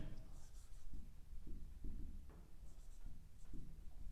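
A pen writes an accounting heading on paper during a process costing lesson, making soft, regular scratching strokes in short repeated bursts, close but faint.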